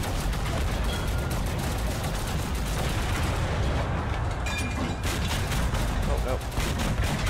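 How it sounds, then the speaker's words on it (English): Missiles firing in the war strategy video game Total Conflict Resistance, a dense continuous barrage of booms and gunfire-like blasts at high level with no clear pause. "fire the missiles left, right, center"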